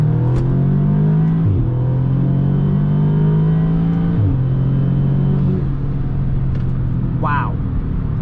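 An Audi S3 engine with a Stage 2 tune drones loudly up through the revs in a hard pull, with gear shifts briefly dipping the pitch before it climbs again.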